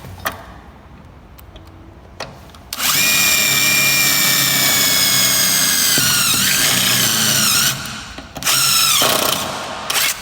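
DeWalt power drill boring a hole while building a car, loud and close, a high whining motor run of several seconds with pitch shifts under load, then a brief second burst after a pause.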